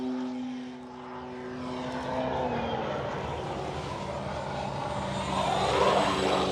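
FMS Pitts V2 1400mm RC biplane roaring past at full throttle low along a driveway, a loud steady propeller and motor whine that swells and shifts pitch as it nears and passes.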